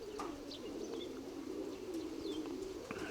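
Pigeons, a flock of about twelve, coo softly in a low steady murmur, with scattered chirps over a continuous faint background.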